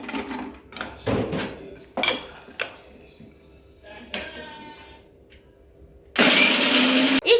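A kitchen mixer grinder blitzes cashews in a short, loud whirring burst near the end, after a stretch of talking and scattered clinks and knocks.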